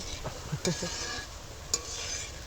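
Drops of gram flour batter fry as boondi in hot oil, a soft continuous sizzle with a few brief stirring clinks and knocks from a nearby utensil.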